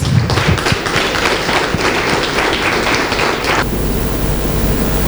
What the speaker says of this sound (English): Please welcome, sir, with a big round of applause